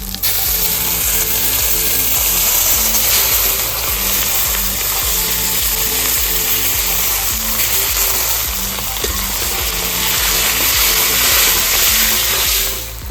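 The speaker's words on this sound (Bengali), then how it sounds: "এবার দিয়ে দেব পেঁয়াজ।" Sliced onions frying in hot oil in a pan, with whole cumin already added, while cooking potoler dorma: a loud, steady close-up sizzle with regular scraping stirs throughout and no talk.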